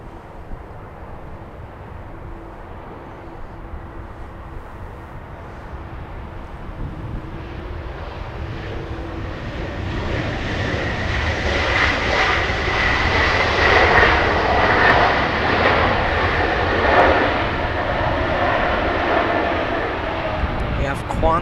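A Qantas Airbus A330 airliner arriving from Brisbane lands at Los Angeles International Airport. Its jet roar starts distant and grows steadily louder and closer, peaking as a broad rushing whine before easing slightly, with faint voices in the background.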